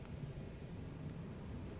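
Wind blowing in the video game FAR: Changing Tides, set in a frozen landscape near a barricade, heard as a steady, low, rushing noise that holds evenly throughout, with no voices over it.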